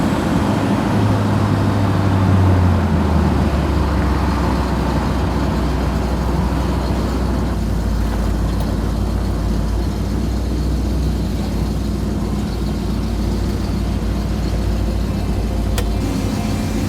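A 1967 Chevrolet Camaro restomod driving on the road, a continuous low engine drone and road rumble heard from inside the car, loud and steady throughout with a brief rise in pitch early on.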